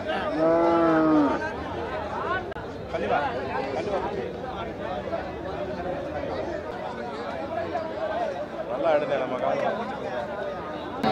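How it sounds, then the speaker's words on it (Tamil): A native bull at a cattle market in Oddanchatram, Dindigul, gives a loud, close drawn-out moo at the start, and the market's chatter and talking voices fill the rest. "இது என்ன காளைண்ணா? நாட்டு காளை."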